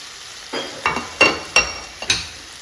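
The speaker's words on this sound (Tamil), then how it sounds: "இப்போ வெண்டைக்காயோடு சேர்த்து நல்லா பரட்டி விட்டுடலாம்" Okra and potato pieces being stirred in a hot frying pan, with about five distinct scraping stirs over a soft background sizzle, close and fairly quiet.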